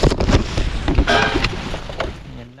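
Gusty wind buffets a camping tarp in a forest, rushing in loud waves with flapping bursts, then easing toward the end.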